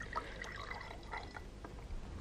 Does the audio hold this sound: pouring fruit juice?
yes